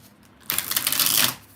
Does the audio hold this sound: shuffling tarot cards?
yes